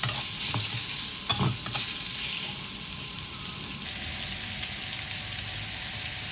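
Young pork rib bones stir-fried in a pan with southern curry paste, chilli and garlic, a steady loud sizzle with a few scraping stirs near the start, close and continuous without talk.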